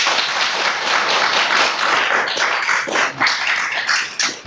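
At a council committee meeting, an audience gives a loud, sustained burst of applause, steady clapping from many hands with a few sharper claps standing out as it tapers near the end.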